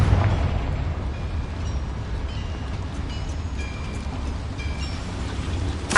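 A Confringo fire spell explodes in Hogwarts Legacy on PS5, a sustained booming roar with a deep low rumble that runs throughout and surges into a sharper burst at the very end.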